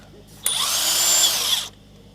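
A DeWalt cordless impact wrench on truck wheel studs at a service shop, one loud, close whirring burst lasting just over a second and cutting off sharply.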